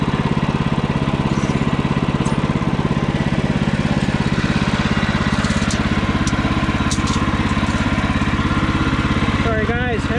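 Portable sawmill cutting a half-inch slab off a cedar log, a loud steady engine drone with a buzzing saw throughout, close by, with a faint whistle-like sound near the end.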